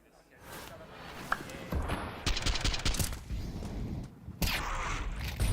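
M4 rifle fire in a competitive Counter-Strike match at the BLAST Open Rotterdam event: fast rattling bursts and sharp shots mixed with game sounds under a caster's continuous commentary.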